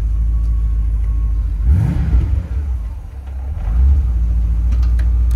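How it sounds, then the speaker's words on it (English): A 1989 Porsche 928 GT with a 5-speed manual gets a quick rev, the engine note swelling from a deep idle rumble to a brief rise near the middle, then settling back to a steady loud idle. "Nice little rev there for you."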